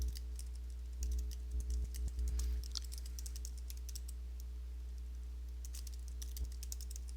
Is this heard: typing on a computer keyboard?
yes